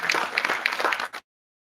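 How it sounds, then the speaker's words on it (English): Audience applause at a university function welcomes a speaker to the lectern, a brief burst of crowd clapping lasting just over a second before it cuts off. "Welcome him to the lectern with a big round of applause."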